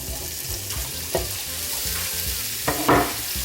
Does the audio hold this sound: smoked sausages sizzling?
yes